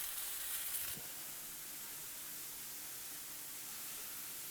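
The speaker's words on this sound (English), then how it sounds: "Sizzling hot grilled cheese." Halloumi cheese sizzles on a hot grill with a soft, steady hiss, fairly faint and continuous after a brief louder burst at the start, with no one talking.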